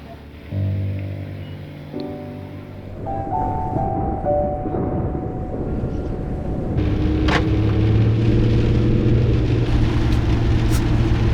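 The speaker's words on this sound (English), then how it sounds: "The rain didn't really let up for more than 10 minutes while we were sitting" Steady rain falling around a camper van parked in Banff, a continuous hiss that thickens over time, with low engine-like hum and a few tonal notes underneath.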